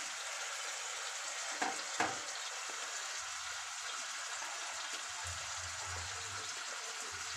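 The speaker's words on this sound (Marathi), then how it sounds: "इथे एका साईडला पॅनवरती मच्छी फ्राय करायला ठेवली" Fish fries in a pan with turmeric, salt, masala and ginger-garlic, giving a steady, hissing sizzle throughout, broken by a couple of brief clatters early on and a low rumble near the end.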